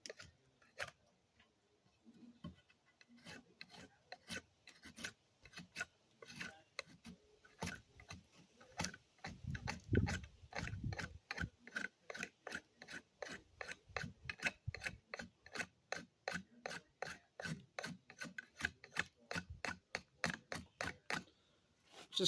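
A knife whittling wood, shaving curls: rapid, rhythmic rasping strokes, sparse at first and then settling into a steady series of close, crisp scrapes with no talk.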